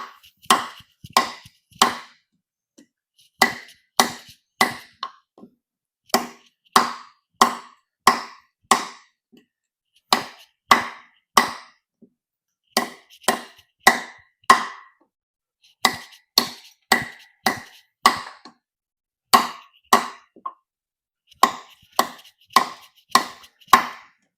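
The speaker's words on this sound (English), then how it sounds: "I definitely don't recommend chopping with this" A Yewu drop point hunter knife with a 440 steel blade chops a workpiece in bursts of sharp, close, loud strikes, grouped in quick runs of three to six blows separated by short pauses, with no talking.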